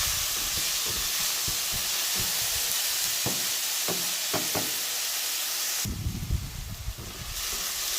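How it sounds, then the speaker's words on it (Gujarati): Green corn chevdo sautéing in a pan for a village-style dish, with a steady soft sizzle and hiss throughout, broken by a few light knocks and stirs of the spoon and a brief bump of handling near the end. "થોડી વાર સાતળવું તો પડે ને"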